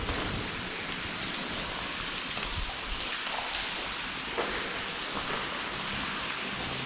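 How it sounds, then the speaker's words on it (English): Heavy water drips and pours inside the old Mapperley railway tunnel, forming a dense, continuous rain-like patter. A few sharper drops stand out from the steady hiss. "it's getting super wet in here. It's like being out in a rainstorm."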